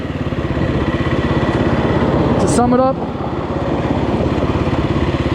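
A Kawasaki KLX 300R dirt bike engine idles with a steady, even low chug close by, while a voice talks over it.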